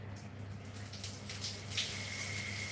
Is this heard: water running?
yes